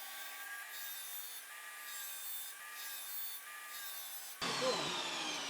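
A tile saw cuts through shower niche tile with a steady grinding, rasping drone that swells slightly in waves, then shifts abruptly near the end to a harsher, brighter scraping as the blade bites differently.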